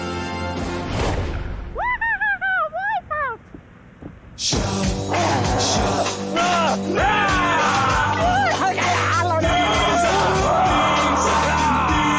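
Game show contestants shout and yell loudly amid crowd noise, a brief sung or whooping voice giving way to continuous, raucous bellowing that fills the scene.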